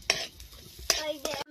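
Chopped garlic frying in melted butter and being stirred in a pan, with three short bursts of scraping and sizzle separated by quieter gaps, close by and without talk.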